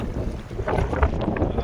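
Strong wind buffets the microphone aboard a fishing boat at sea, a loud, gusty roar with rumbling low thumps and no voices.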